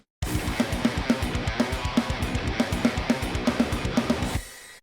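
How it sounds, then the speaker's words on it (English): A driving progressive metal drum groove with steady snare hits locked to a busy, distorted guitar riff, loud and continuous for several seconds. "the snare hits start becoming more complementary to that riff. Listen to the snare."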